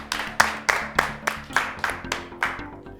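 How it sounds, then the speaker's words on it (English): A small group claps for a third-place finisher in a children's spelling challenge, producing seven or eight distinct, evenly spaced claps over a faint tonal background that fade slightly toward the end. "Let's give him a round of applause."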